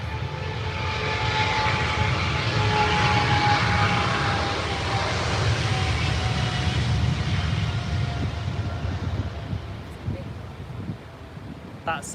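Airliner jet engines roar steadily at Heathrow Airport, a loud, continuous grinding rumble with a faint high whine that holds for the whole stretch and eases slightly toward the end.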